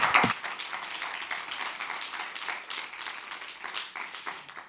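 Audience applause for a conference panel session, a steady round of clapping that starts with a loud burst and carries on evenly for several seconds, fairly close, with no talk over it.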